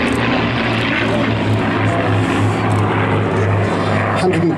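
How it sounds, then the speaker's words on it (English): A World War II Hurricane fighter flying at an airshow, its propeller engine droning loud and steady with a low throbbing tone, with people talking underneath. "Look at that huge wing on the Hurricane."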